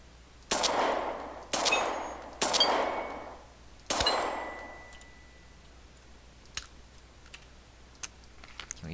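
A magazine in a video game picks up a round: four loud mechanical clacks in quick succession, each with a ringing metallic tail, followed by a few faint ticks.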